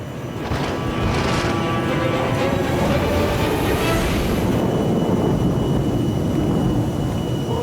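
Cartoon airplane caught in a lightning storm and on fire, a loud steady roaring rumble of engine and wind that swells in and holds without letup, no voices.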